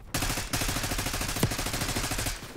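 Rapid automatic gunfire in a multiplayer shooter, loud continuous bursts of closely spaced shots lasting a couple of seconds with a short break, no talking.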